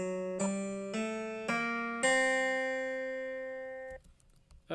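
A clean guitar chord with a flattened minor seventh, built up note by note with three plucked notes before the full chord rings out and sustains for a couple of seconds, then stops, with faint handling noise after.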